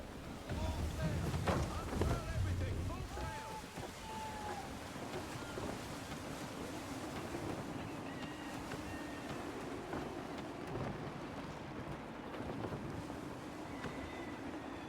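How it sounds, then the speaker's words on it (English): A sailing ship at sea in Assassin's Creed III moves through gusty wind with a continuous rushing, whooshing roar and water wash. Voices are heard briefly in the first seconds. "Gusty winds can be difficult to manage."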